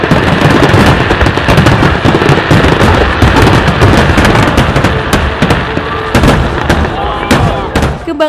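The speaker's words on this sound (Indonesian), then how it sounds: "Kembang api." Fireworks going off, a loud, dense, continuous barrage of crackling pops and sharp bangs rattling on without pause, with a voice faintly underneath.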